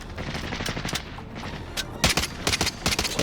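Rapid repeated shots from an M91 rifle in Call of Duty: Warzone, loud and close, firing in a steady stream with sharper cracks near the end.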